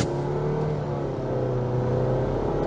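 Nissan Rogue Platinum SUV engine revving up under hard acceleration, a steady rising whir and drone heard from inside the cabin, continuous and moderately loud with no talk.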